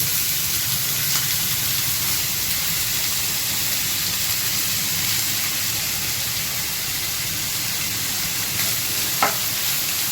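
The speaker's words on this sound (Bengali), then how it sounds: "তেল গরম হয়ে গেছে আমি এই ঝিঙের খোলাগুলো এর মধ্যে দিয়ে দিই" Ridge gourd peels frying in hot oil in a pan, giving a steady, loud, close hiss and crackle like rain that holds unbroken throughout, with one brief utensil tap near the end.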